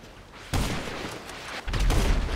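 Gunfire in GTA Online during a beach one-on-one fight, with two loud, sharp bursts of shots followed by a sustained, heavy volley near the end.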